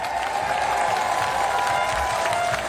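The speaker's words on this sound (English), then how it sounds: "Why don't we clap for them?" Audience applause at a No Kings protest rally in Dallas-Fort Worth, steady crowd clapping with a few cheers mixed in, close and sustained throughout.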